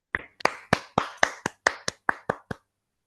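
Online audience applause after a talk, heard as about ten sharp, evenly spaced claps from a single pair of hands, close and fairly quiet, with silence after.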